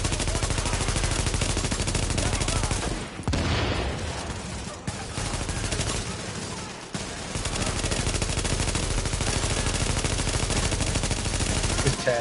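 Gunfire in an online video game shooter: dense, rapid automatic bursts and overlapping shots roar almost continuously, broken by a couple of brief lulls, with a player's voice faintly underneath.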